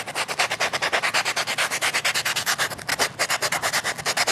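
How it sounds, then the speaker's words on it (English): Hand sanding with a sandpaper sponge block, a quick, even back-and-forth rasping of about eight strokes a second, close and continuous. "I found this a little brick, like it's a sponge with sandpaper on it"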